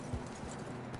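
Horse hooves clip-clop in a video game, a few faint, quick, close steps against a quiet low background hum.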